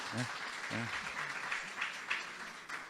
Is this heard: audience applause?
yes